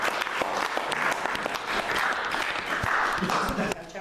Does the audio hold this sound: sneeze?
no